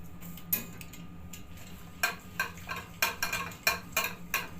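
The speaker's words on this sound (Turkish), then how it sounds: "Çok hızlı karıştırmanız gerekiyor. Yoksa topak topak olacak. Biraz karıştıracağız." A spoon scrapes and taps briskly against a bowl while a protein mixture is quickly stirred with added water, a string of close, uneven clinks and scrapes grouped in rapid bursts with no voice.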